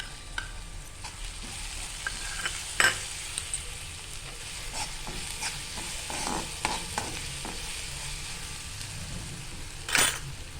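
Lightly browned onion sizzles in a pan as a crushed ginger, garlic and green chili paste is stirred in for a potato sandwich filling, a soft steady frying hiss with scattered spoon scrapes and clinks, no voices.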